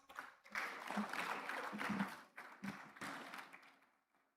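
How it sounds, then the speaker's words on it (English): Graduation ceremony audience at Lagos Business School applauding, a soft, fairly distant round of clapping that swells, dips briefly and fades out. "Please, a round of applause"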